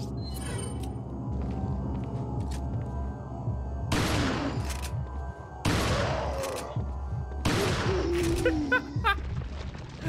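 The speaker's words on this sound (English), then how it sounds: "Had to use the shotgun." Shotgun blasts in the video game Resident Evil 4, three loud booming shots spaced a couple of seconds apart, each with a sharp broadband crack and lingering tail over game ambience.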